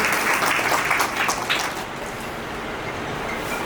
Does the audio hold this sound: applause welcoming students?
yes